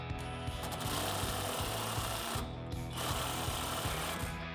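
A 15mm impact wrench tightens the sway bar end links on a 1994-2004 Mustang, giving a loud, close, continuous rattling hammer with rapid pulses and a couple of brief dips in force.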